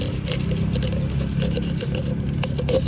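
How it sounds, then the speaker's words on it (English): Sandpaper rubs steadily over the damaged surface of a plastic cup, a continuous close rasping scrape with a quick back-and-forth rhythm and no talk. "we sand the surface, yeah guys, to make it smoother and more even"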